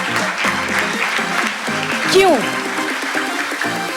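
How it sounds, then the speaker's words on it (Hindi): An audience at an interschool Gita quiz competition applauds steadily and loudly throughout, with a voice speaking briefly over the clapping. "सबसे पहले इन लोगों के लिए बहुत ज्यादा तालियां बजाइए"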